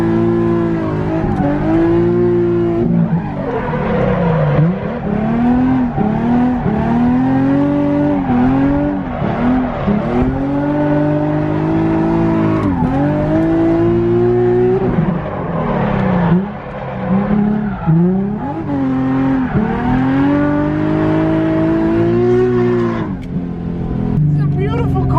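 A drift car's engine revs hard and close, its pitch rising and falling in long surges as tires squeal during slides, loud and sustained throughout.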